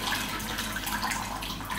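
Water draining out of a sink where an orchid has been soaked for watering, a steady close splashing and trickling rush with no talk.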